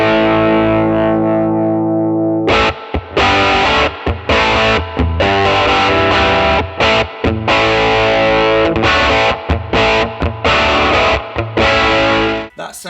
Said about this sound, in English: Now, we liked the 63 reverb spring.